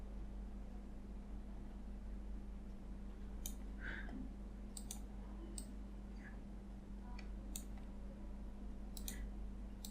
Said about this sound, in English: Now click on right button and click on Edit Points and click on this black box.